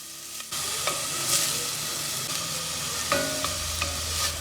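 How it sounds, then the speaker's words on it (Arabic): Onion and garlic fry in oil or butter until golden, a close steady sizzle that starts abruptly, with a few stirring clatters from a spoon in the pan. "وغادي نخليو البصلة كتدبال وتحمر حتى كتعطينا داك اللون الذهبي"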